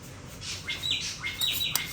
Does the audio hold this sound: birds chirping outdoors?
yes